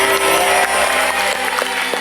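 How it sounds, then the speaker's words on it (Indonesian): Studio audience applause on an Indonesian television game show, a loud, dense wash of clapping that fills the short stretch without talk over it. "Tepuk tangan untuk mereka."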